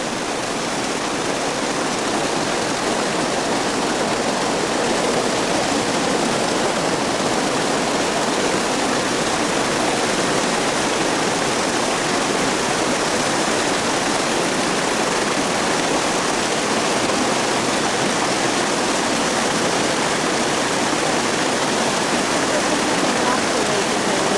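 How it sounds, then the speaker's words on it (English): Steady rushing water from a small waterfall, a constant broadband splash that holds even and unbroken throughout. "there's a nice little waterfall here"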